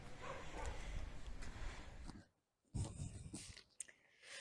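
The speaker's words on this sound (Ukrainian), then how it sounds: "Собаки лають щось." Dogs bark faintly in the distance over a steady rushing outdoor noise that briefly drops away before returning.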